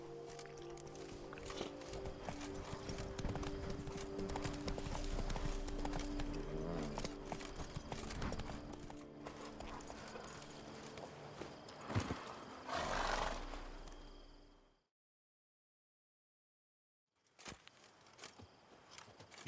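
A horse gallops in The Witcher 3 video game, hooves pounding in a fast, close rhythm with a neigh and rising surge before the sound cuts to silence, then faint activity returns.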